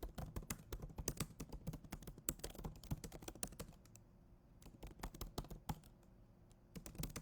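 Rapid typing on a computer keyboard, a dense stream of crisp close-up key clicks with brief pauses, continuing steadily throughout with no voices.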